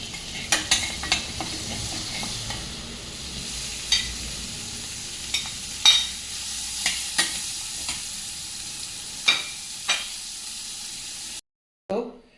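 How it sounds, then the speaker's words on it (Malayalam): Butter frying in a pan for a homemade pizza topping, a soft steady sizzle with a scatter of sharp clicks and scrapes from stirring, close and moderately quiet, ending in a brief cut of silence. "ഇതൊന്ന് ഫ്രൈ ചെയ്തെടുക്കണം"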